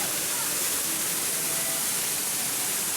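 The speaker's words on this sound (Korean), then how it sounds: "폭포 창문에서는 초강력 속도의 물줄기와 굉음이 눈과 귀를 마구" A waterfall in a cave near Guiyang gushes at high speed, producing a loud, dense, continuous roar of rushing water with no pauses.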